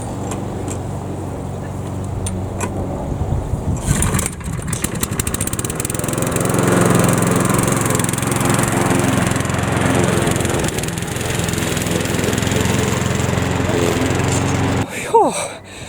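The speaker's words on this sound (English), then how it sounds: "I've done my bit of communal mowing" A petrol lawn mower droning steadily nearby while mowing communal grass paths in a kitchen garden, the engine rising and settling before cutting out near the end.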